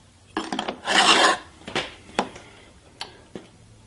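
A putty knife tooling glazing putty into a wooden window sash, with rasping scrapes and drags, one longer stroke among several short ones, followed by light clicks and taps, near and alone.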